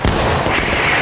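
A single massed musket volley cracks out in War of Rights, a loud, dense burst of overlapping shots that hangs as a broad rumble for about a second.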